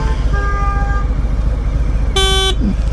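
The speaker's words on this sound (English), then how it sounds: "I can honk too." A car horn honks twice, one short blast followed by a second, louder toot, heard over a low steady background hum.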